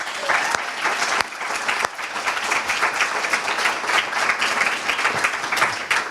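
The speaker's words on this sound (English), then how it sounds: "so let's all applaud the group" Sustained applause fills the room as an audience claps for student groups after their urban agriculture policy presentations, a dense, even roar of many hands with a few sharper claps standing out.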